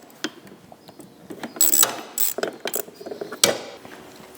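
A ratchet wrench works an 8mm bolt off the top of the starter on a Predator 3500 generator, producing close, uneven bursts of sharp pawl clicks and metallic clatter with short pauses between turns.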